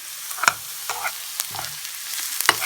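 Oil sizzles in a pan while ingredients fry for northern Thai pork larb, with a soft continuous crackle and several sharp spits and stirring clatters, close up and without talking.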